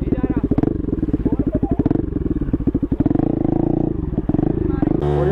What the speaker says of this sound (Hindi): देखो बर्नआउट